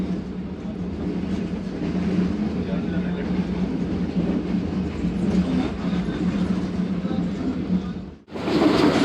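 Karakoram Express passenger train running on rails past Shorkot Junction, a steady loud rumble of wheels and carriage noise heard from inside, continuous and close, with a brief dip near the end.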